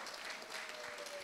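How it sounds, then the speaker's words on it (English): Soft, steady clapping from a crowd at a nursing school celebration, a faint continuous patter with no voices over it. "A round of applause for them."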